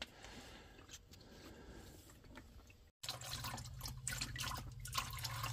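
Oil drains from a car's drain plug, a faint, continuous trickle and drip of liquid with a brief dropout midway before the flow resumes.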